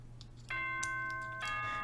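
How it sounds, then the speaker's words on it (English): The announcement chime from the video game Danganronpa 2 plays as two soft, bell-like tones in quick succession over faint background hum, quiet and alone with no voices. "Ding dong, bing bong."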